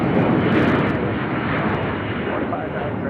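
A jet airplane at Nashville International Airport roars loud and steady, its broad engine rumble holding constant through the whole stretch.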